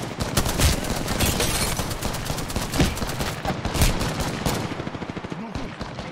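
Sustained, dense automatic gunfire in the battle royale game Apex Legends: rapid overlapping shots that are loud and continuous for several seconds, easing slightly near the end.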